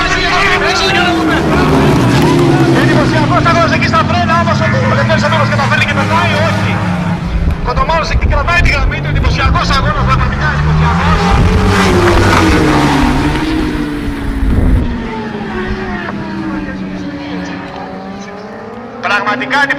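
Superstock 1000 racing motorcycles at the Megara circuit scream and rise and fall in pitch as they brake, battle side by side and overtake, loud and continuous under an excited commentator's voice.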